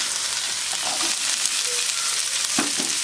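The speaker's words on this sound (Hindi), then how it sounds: "और अब मैं इसमें प्याज डाल दूंगी, क्योंकि साथ में अब सभी चीज़ें भुनेंगी" Onions frying in a pan with bitter gourd, a dense, continuous hiss of sizzling oil with a few faint scrapes of stirring.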